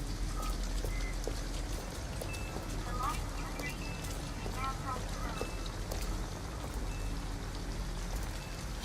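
Steady rain falls in the video game Detroit: Become Human, a constant dense hiss of drops hitting surfaces, with a few faint tonal blips and distant sounds drifting through the downpour.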